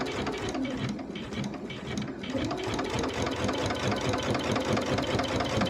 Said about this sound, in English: I'm going to stitch that 1-inch seam